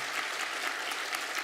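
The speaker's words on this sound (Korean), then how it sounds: "예비 후보님 오셨는데 잠깐 한번 박수로 격려하도록 하겠습니다" A church congregation at a Sunday worship service claps in a short, even burst of applause, steady and moderately loud throughout.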